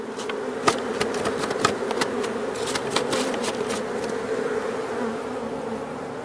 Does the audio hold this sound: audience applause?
no